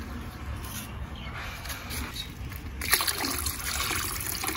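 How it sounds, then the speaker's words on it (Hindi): Water poured from up high into a bucket to oxygenate a fish container makes a steady trickling splash that grows stronger partway through, close and continuous with no talk. "और ये मैं इतने ऊपर से पानी से डाल रहा हूँ क्योंकि सर्कुलेशन होता रहेगा ऑक्सीजन का।"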